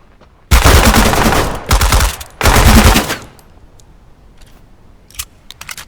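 Rapid bursts of automatic gunfire in the video game Deadside, three loud sustained volleys over about three seconds, close and dense, then quieter background rustle and a faint single crack near the end.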